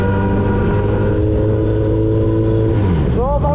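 A superbike engine holds a steady, loud idle-to-rev drone with strong harmonic bands, then near the end climbs in pitch through a sharp rev, up close with nobody talking.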